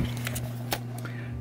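A steady machine hum from laser cutting in the neighbouring room of a fiber-craft studio, with a few short broadband bursts over a constant low drone.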